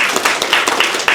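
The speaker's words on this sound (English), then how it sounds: "Let's give her a round of applause" An audience at a community youth mental health event applauds, a dense and fairly loud burst of many hands clapping together throughout.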